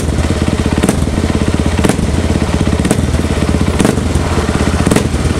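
Motorcycle engine fitted with a Juken 5 remote ECU, started and settling into a steady, loud close-up idle with rhythmic chugging pulses and periodic clattering thumps, no voices over it.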